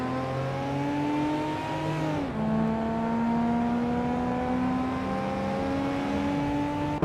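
Several race cars in a racing video game drone and rev steadily at a constant loud level, engine pitch dipping briefly as one shifts gear, with no talking.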